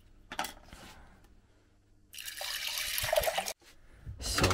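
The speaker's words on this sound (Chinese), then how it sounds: "倒水。" Water is poured into a container in a short splashing burst after a few faint drips and handling noises, with a second brief pour at the end, close by and moderately loud.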